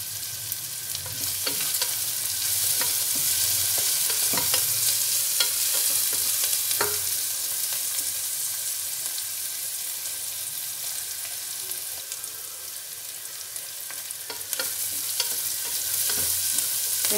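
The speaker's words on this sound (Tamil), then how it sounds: "வெங்காயம் நல்லா வதங்கட்டும்" Onions with salt sauté in a pan for potato kurma, giving a loud, steady sizzle throughout, with intermittent scraping and clinking from stirring and no talk.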